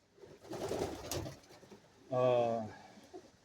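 Pigeons in a pigeon loft: a throaty coo rises clearly in the second half after rustling and shuffling noise, heard fairly close.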